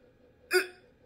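A voice imitates a hiccup with one short, sharp squeaky gulp, isolated and fairly close in an otherwise quiet room.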